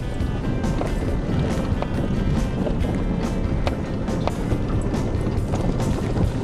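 A 4WD vehicle grinding up a rocky mountain track in second gear low range, with a constant low engine drone mixed with wind buffeting and irregular clunks and knocks from rocks under the tyres.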